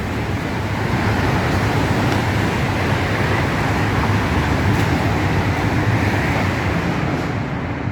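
A Class 374 Eurostar train passes Stratford International station, a continuous broad roar of rushing air and rolling wheels that holds loud and steady throughout without voices.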